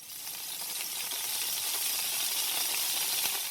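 Chopped garlic, onion and boiled vegetables fry in hot oil in a wok, giving a steady, close, dense sizzle that holds evenly throughout with no voices.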